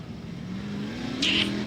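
A 17C race car on a dirt racetrack at night, its engine droning steadily and then rising in pitch as it revs, heard at moderate loudness from nearby.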